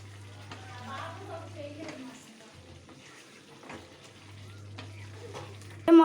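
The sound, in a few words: stirring chilli powder into a spicy Telugu dish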